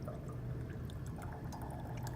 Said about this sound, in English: To clean out volumetric flasks, fill them with DI water.